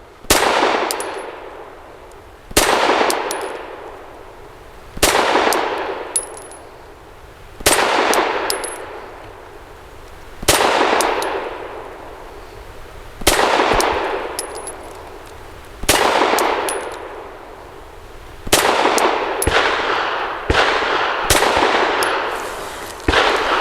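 Handgun shots ring out as a string of sharp cracks, each followed by a bright metallic clang from steel targets, spaced a few seconds apart at an outdoor range, loud and close with no talking.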